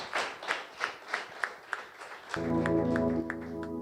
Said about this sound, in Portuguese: É para o Senhor essa salva de palmas.